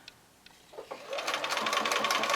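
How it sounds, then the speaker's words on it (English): A sewing machine stitches quilting fabric, starting with a few clicks of handling before a steady, fast mechanical whirring rhythm builds up and runs continuously, close and fairly loud. "my sewing machine and I start sewing, I should come onto my fabric right at that V."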